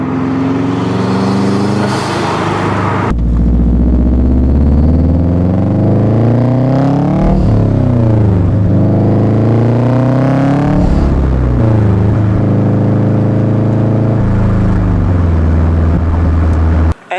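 A Subaru STi engine accelerates on the road, rising and falling in strong harmonic sweeps as the throttle opens and the gears change. The engine stays loud and close for the whole stretch, with no talking over it.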